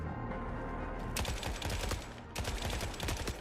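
Rapid gunfire in The Forever Winter video game, dense bursts of automatic shots crackling near and loud, with a brief lull before a second volley.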